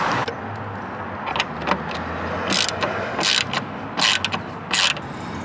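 Short whirring bursts of a screw being driven out of a dashboard access panel on a 2018+ Jeep Wrangler JL, several quick buzzes with clicks between them, close-up over a low background hum.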